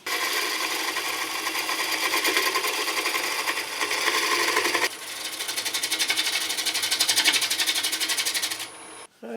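A wood lathe trues up the outside of a bowl blank held against the tailstock, a steady scraping, rasping hum of the tool cutting the spinning wood that runs continuously, briefly easing midway and cutting off at the end.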